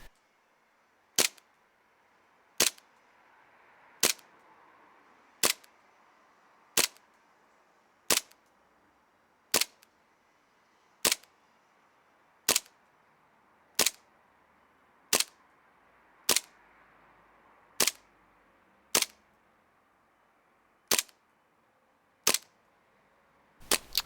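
A WE Hi-Capa T-Rex gas airsoft pistol empties a full magazine in freezing cold around -1°C, firing about seventeen sharp, evenly spaced cracks roughly one to one-and-a-half seconds apart over a quiet background, with a quicker pair at the end.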